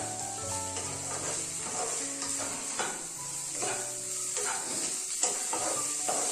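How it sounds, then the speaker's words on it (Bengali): Shrimp and vegetables sizzle and are stirred in a frying pan, a steady close crackle with scraping utensil strokes throughout. "দারুণ কষছে, খুব ভালো লাগছে, চিংড়ি মাছগুলো সব সবজির মধ্যে মিশে একটা সুন্দর ফ্লেভার হচ্ছে"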